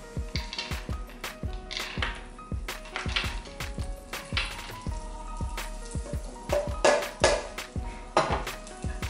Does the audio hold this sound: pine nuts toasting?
yes